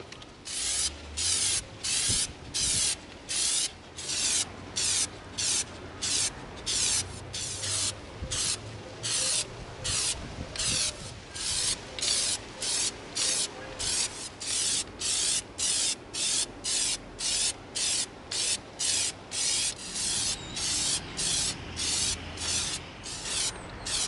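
A spray can applies sealant coating to an EVA foam prop grenade outdoors, hissing in short, rhythmic bursts, dozens of quick sprays separated by brief pauses, close and fairly loud.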